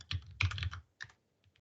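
Close, clicky computer keyboard typing in two quick bursts of keystrokes, then a short pause and a few isolated taps, with no talking.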